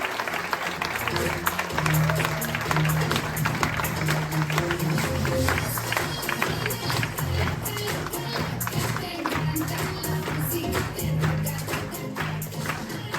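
An audience applauds for a performer at a Corsican stage show, Marina Viva 2025, with dense, sustained clapping from a sizeable crowd and a voice heard over it.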